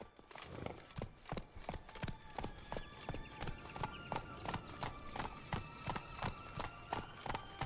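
A horse gallops in The Witcher 3, its hooves striking in a quick, steady clip-clop rhythm that continues throughout, clear and close, with game sounds faintly behind.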